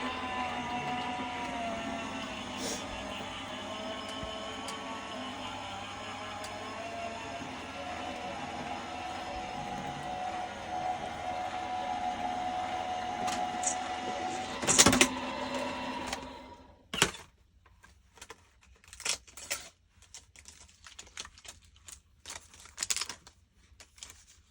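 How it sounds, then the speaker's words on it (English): A card-making die-cutting machine feeds card stock through with a steady mechanical whirring and grinding drone for about fifteen seconds, then stops, leaving scattered close clicks and handling noises. "I'm just going to pop that through the machine"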